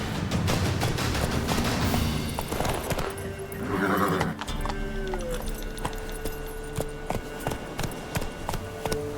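Geralt's horse Roach in The Witcher 3 whinnies amid a busy, loud game soundscape, with hoofbeats clopping along as the horse is urged into a gallop.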